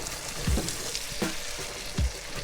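Onions fry in a lamb potjie pot, a steady sizzle broken by a few soft scraping stirs, close up and without talk.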